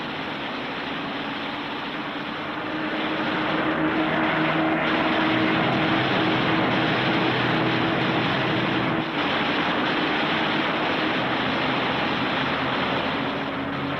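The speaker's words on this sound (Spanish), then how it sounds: "Aquí el alemán persigue al Spitfire sobre la línea costera británica" A WWII Spitfire pursued by a German fighter over the British coastline, propeller engines droning steadily and loud throughout, swelling slightly after the first couple of seconds with a dip near nine seconds, no voices.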